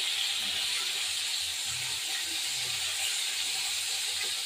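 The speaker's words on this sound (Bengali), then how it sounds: "মাছটা ভাজা হোক, তারপর ফিরে আসছি। এবার মাছটাকে উল্টালাম" Small carp frying in hot oil in a pan, just turned over, giving a steady close sizzling hiss that holds evenly throughout without any speech.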